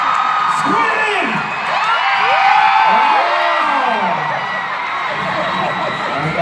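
A concert crowd at a KCON pop show screams, whoops and cheers loudly and continuously, with rising and falling shrieks layered over a dense roar of voices.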